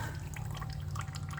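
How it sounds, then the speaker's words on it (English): Milky engine oil drains from a Vortec 350 small-block V8 destined for an '86 square-body truck, a steady close trickle over a low, constant hum. "Once the oil drains down a little further"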